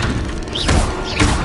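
Bombarda blasting spell cast in the Hogwarts Legacy video game, giving two booming thuds about half a second apart over a dense, loud bed of game noise.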